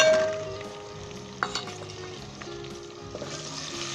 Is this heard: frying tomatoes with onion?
yes